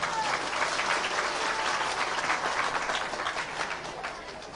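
Husbands in the audience clap together at a Shree Vishnu Mahayagya religious gathering, a dense, steady burst of applause that fills the room and slowly thins toward the end.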